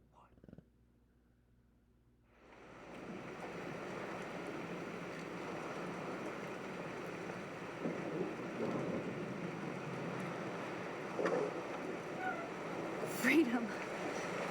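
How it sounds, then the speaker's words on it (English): Steady roar of stormy wind and rain in the video game Life is Strange, rising from near silence into a dense, constant wash that holds loud for the rest of the clip, with a few brief gusts. "This storm is real."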